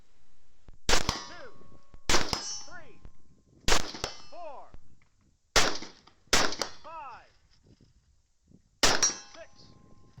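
Suppressed rifle shots fired at night ring off steel targets at 50 to 100 yards, six sharp cracks each followed by a resonant metallic clang that decays, spaced a second or two apart.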